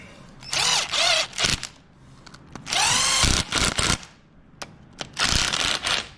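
A power tool snugging up a bolt while installing a motorcycle clutch saver, several loud whirring bursts of one to two seconds each, separated by short pauses, close up with no talk.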